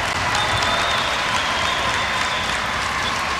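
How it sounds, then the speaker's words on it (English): A basketball game crowd in a gym cheering and applauding during a timeout, a dense continuous wash of clapping and voices at steady loudness. "And listen to this crowd."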